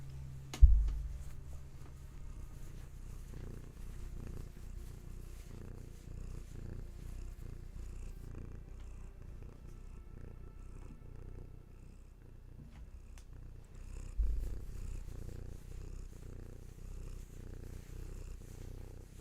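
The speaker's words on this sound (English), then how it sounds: "Bringing your healing purrs all over." A cat purrs steadily and softly throughout, a low continuous rumble close by, with a couple of brief louder bumps near the start and about two-thirds of the way through.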